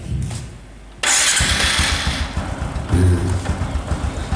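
A motorcycle's electric starter motor cranks briefly and the engine catches, firing up into a loud, close, steady idle with uneven rhythmic pulsing; no voices.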